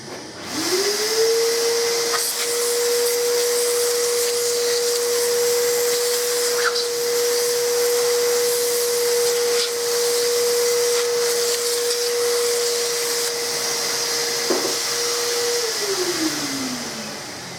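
A shop vacuum cleans metal chips after machining car parts, spinning up to a steady loud whine with broad hiss, running continuously for about fifteen seconds before winding down, with faint clinks of chips.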